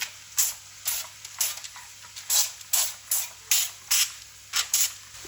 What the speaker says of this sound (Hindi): अब इनके ऊपर मैं ऑयल का स्प्रे कर दूंगी।